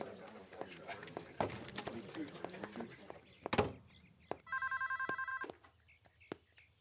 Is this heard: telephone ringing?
yes